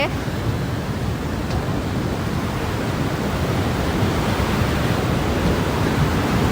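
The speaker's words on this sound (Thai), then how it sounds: "ดูดูอ๋อเดี๋ยวมาดูนี่น้ำตกแบบสวย" Steady, broadband rushing water roars without a break, like a nearby waterfall, with no clear pauses or other sounds standing out.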